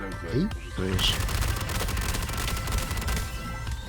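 Rapid bursts of gunfire rattle continuously after a brief opening sound, automatic shooting at a door in Star Citizen.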